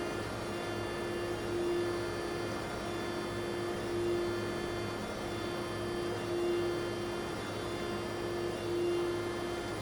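An Okamoto 16 by 32 inch high-precision surface grinder runs in surface grinding mode, a steady machine hum with a constant tonal whine and broadband noise throughout, no voices.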